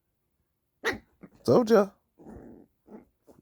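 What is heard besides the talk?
puppy barking and growling while biting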